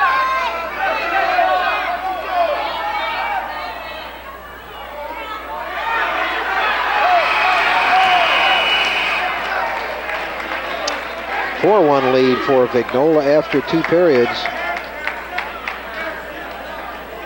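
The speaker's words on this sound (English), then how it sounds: "Crowd is excited because Robert Burnett, who was not scheduled to go, is acquitting himself well against the much more experienced Eric Vignola." Excited crowd at a 1988 Glassboro vs. Paulsboro high school wrestling group final, with loud, rising cheering and shouts building over a long stretch while a commentator talks over it.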